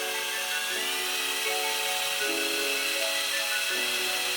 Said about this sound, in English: So let's get the drill.